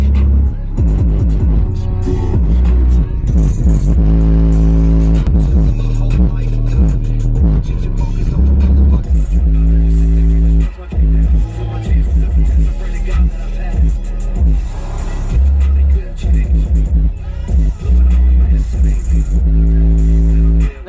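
Subwoofers in a cheap modified truck pump loud, booming bass-heavy music with a strong, continuous low-end throb that fills the cab, with a voice mixed faintly in the background.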